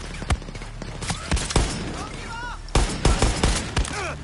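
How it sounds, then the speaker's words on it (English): Combat in the video game Far Cry 6 with a grenade and gunfire: sharp, loud shots crack repeatedly in irregular bursts across the clip, with several heavier broadband hits standing out amid busy game noise. "Oh shit, that's a grenade!"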